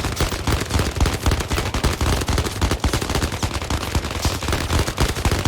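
Rapid, sustained automatic gunfire from a video game firearm in Zero Caliber VR, dense bursts of shots rattling continuously and loudly with no pauses.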